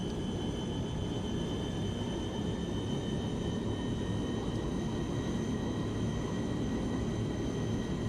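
Steady drone of a Fokker F27 turboprop engine in a flight simulator game, a constant even hum with faint high whining tones running unchanged throughout, no voices.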